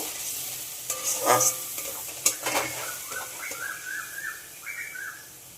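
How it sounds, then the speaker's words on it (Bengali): Spice paste sizzles in a pan on medium heat while a spoon scrapes and stirs it in a few bursts, with faint chirping in the background. "মশলাটা খুব ভালোভাবে কষিয়ে নেব।"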